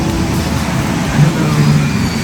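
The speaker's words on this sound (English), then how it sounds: "We're here at the bus stop." Street traffic rumbles at a bus stop in Taipei, where cars and buses pass close by in a dense, steady roar with a low engine drone.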